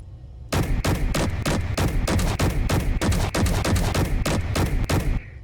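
Assault cannons fire repeatedly in Space Engineers aboard a fighter/bomber, a loud, fast run of about twenty heavy booming shots at a steady rhythm that stops abruptly after roughly five seconds, with no talk.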